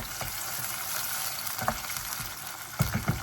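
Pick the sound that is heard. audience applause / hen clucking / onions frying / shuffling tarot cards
onions frying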